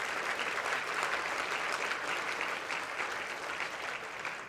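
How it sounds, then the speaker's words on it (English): A crowd applauds steadily and loudly, a dense wash of clapping that holds for several seconds before easing slightly at the end. "round of applause"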